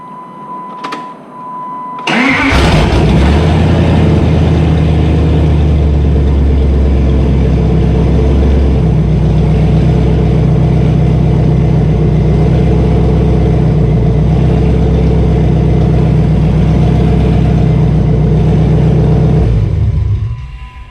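Engine of a Jeep Grand Cherokee ZJ, fresh from a manual transmission swap and running with no exhaust, starts up loud and close, then holds a steady rumbling drone before cutting off near the end.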